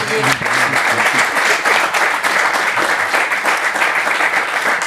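Studio audience applause on a French football television show, loud steady clapping filling the whole stretch, with a brief voice at the start.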